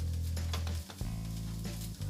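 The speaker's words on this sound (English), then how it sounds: "Oh, you hear that grill? I hear it. It's sizzling over there." A plant-based burger patty sizzles faintly on a grill over a low steady hum, with a soft break partway through.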